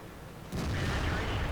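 A tank cannon shot in a tank battle game, a single heavy boom bursting in and rumbling on, close and loud, following low engine hum.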